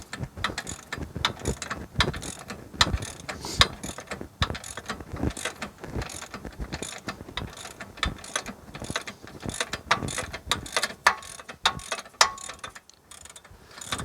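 A ratchet spins off a wheel hub nut on a Mitsubishi 3000GT 4WD rear hub in rapid bursts of close, loud clicking, with short pauses between strokes and no voices.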